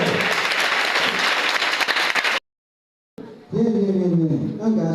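Loud clapping from an audience of exam candidates and families at a school session, a thick burst of applause that cuts off abruptly into brief silence before a voice begins speaking.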